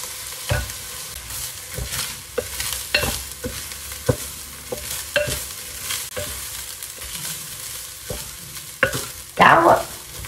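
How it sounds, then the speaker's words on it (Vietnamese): Rice grains are stirred and dry-roasted with a spatula in a pot over a low flame, the scraping strokes coming in an irregular rhythm, close and fairly loud, with a brief sizzling burst near the end. "Mình rang hột gạo nãy giờ cũng hơi xa, nó cũng săn hột gạo lại rồi"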